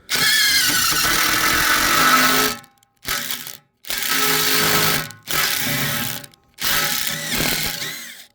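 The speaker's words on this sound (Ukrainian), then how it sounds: "це шуруповерт тріщотка спрацьовує, це імпакт" Loud bursts of a cordless impact drill driver drilling, four or five separate runs with short pauses between, high-pitched whirring and rattling of the ratcheting clutch close up.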